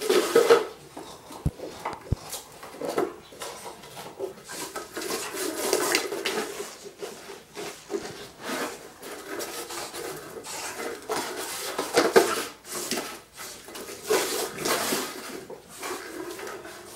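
A dog knocks a plate around on a hard floor, producing irregular scraping, rubbing and clattering sounds in uneven bursts, fairly faint and with no talking.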